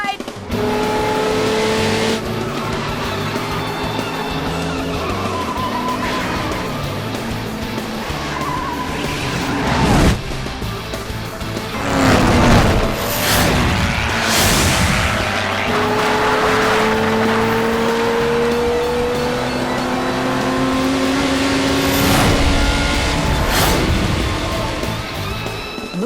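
Cartoon race cars speeding around a track, engines roaring past with repeated sharp tire squeals and skids, loud and busy, mixed with faint background voices.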